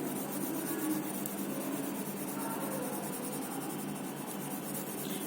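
An HB pencil shades across paper in quiet, continuous scratchy strokes kept in one direction, soft and close with no speech over it.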